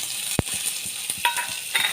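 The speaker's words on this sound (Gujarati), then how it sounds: "સમોસા બનાવવા માટે આને થોડું ફ્રાય કરીશું" Maggi noodle samosa filling fries in hot oil with a soft continuous hiss, broken by a few light stirring clicks and taps close by.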